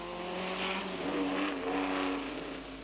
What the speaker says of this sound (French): De belles Porsche, la numéro 10, une 911 et la numéro 4, une 356, sont à l'attaque dans le virage de la ferme.